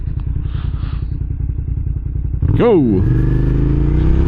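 A 2006 Suzuki SV650S motorcycle engine runs loud and close, with a steady low throb that surges into a rising rev as the bike accelerates hard, while a rider talks briefly over it.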